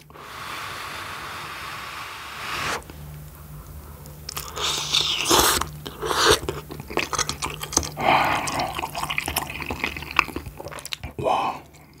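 Someone eats spicy Jin Jjambbong ramen fried with shrimp and egg up close, with a steady run of crunchy bites, chewing and wet mouth sounds and no talk.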